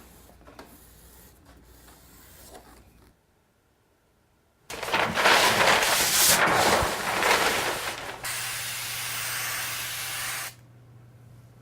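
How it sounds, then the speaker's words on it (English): Spray adhesive is sprayed onto the back of a prop part and its material in a few-second burst of loud aerosol hiss, followed by a steadier hissing spray. "you spray the back of the thing and the material"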